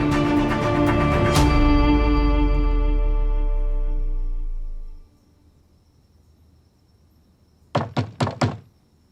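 A door is knocked on four times in a quick, sharp burst, heard after a long, resonant sustained musical tone that fades out into near silence.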